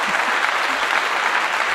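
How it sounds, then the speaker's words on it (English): A quick burst of hand clapping, dense and even like applause, fills under two seconds with no talking over it. "Let me give you a clap."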